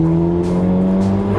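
Mitsubishi Evo VI with a turbocharged 4G63T engine and titanium turbine wheel, heard while driving as a loud, steady engine drone with strong harmonic tones, recorded close and filling the short clip without talk.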